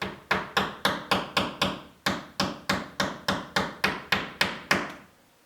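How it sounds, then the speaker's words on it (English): Sharp hammer strikes on wood land one after another in a steady rhythm, about fifteen blows, close and loud, as golf tees are driven into door hinge screw holes. "fill these holes with the golf tees, use that and a hammer"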